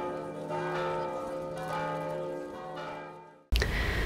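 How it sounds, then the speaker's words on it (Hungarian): The school bell of the Batthyány Ignác Technical College rings at noon for the graduating class. A sustained, resonant bell tone lasts about three and a half seconds, then cuts abruptly to a different, noisier sound. "déli 12 órakor szólalt meg utoljára az iskola csengője"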